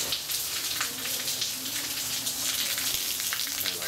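Rain pours outdoors on a street during a sudden shower, a steady dense patter and hiss of drops hitting the ground, close and continuous with no voices.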